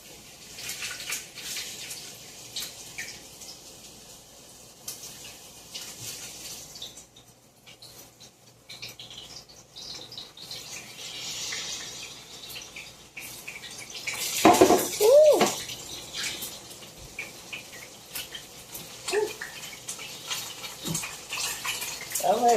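Oyster mushrooms drop into a hot frying pan and start to fry, giving a busy hiss and sizzle with scraping and clatter in the pan, loudest in a burst midway, with a voice now and then over the cooking.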